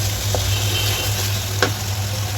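Beef spleen sizzles steadily in a pan while being stirred, a constant close frying hiss with a couple of faint scraping clicks.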